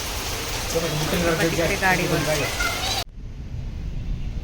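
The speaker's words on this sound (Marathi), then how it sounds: "किती जोरात पाऊस चालू आहे" Heavy monsoon rain in Nashik roars as a dense, steady hiss with voices faintly mixed in, then cuts abruptly to a much quieter, muffled patter.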